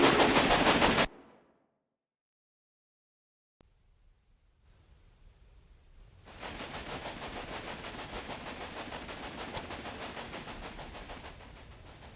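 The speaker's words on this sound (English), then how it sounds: "Your train is now traveling between Omaha and Norfolk." A train running between Omaha and Norfolk in the Railway Empire video game: a loud rumble cuts to silence, then a quiet engine hum returns and swells into a steady rattling roll that fades slightly at the end.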